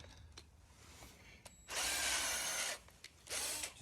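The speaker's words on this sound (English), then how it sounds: "It's good to put wood behind your sheet metal when you're trying to drill holes through it." A power drill bores through sheet metal backed by wood during rust patch repair, with two loud sustained bursts of grinding, whining drilling separated by quieter shop noise and small clicks.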